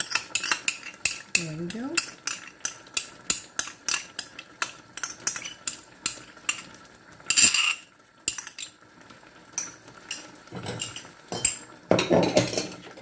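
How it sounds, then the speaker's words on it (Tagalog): Plain yogurt being mixed into chicken biryani in a pot, heard as a steady run of spoon clinks and scrapes against the metal, close and fairly loud, with a brief spoken comment near the end. "Then mix it well"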